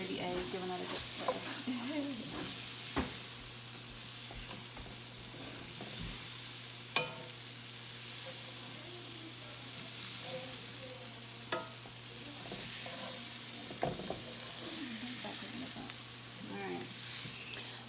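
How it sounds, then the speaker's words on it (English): Sliced onions and sweet potatoes fry in a pan while a utensil stirs them, giving a continuous sizzle broken by scraping strokes and occasional sharp knocks against the pan, all close by under a low steady hum. "baby A is giving that a good stir."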